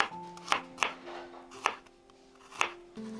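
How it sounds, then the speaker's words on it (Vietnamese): A knife minces garlic rapidly on a cutting board in a series of sharp, irregular taps, with a faint tonal hum running underneath. "Tỏi thì mình dùng từ 2 đến 3 tép, mình cũng băm nhỏ luôn."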